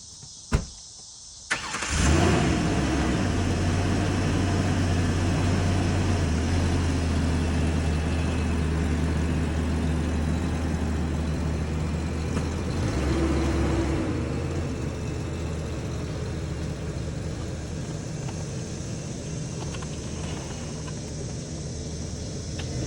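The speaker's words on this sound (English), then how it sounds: "RX7 rolled out pretty smoothly, and the slip knot uphold." A vehicle engine starts with a sharp burst and then runs steadily at a loud, low, rough idle while towing a Mazda RX7 that has sat for years out of a shed, continuing unchanged for over twenty seconds with no talk.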